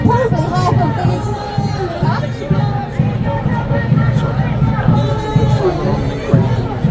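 A protest crowd keeps up a dense, steady babble of overlapping voices and chatter throughout, loud and close, with individual shouts rising out of the mass.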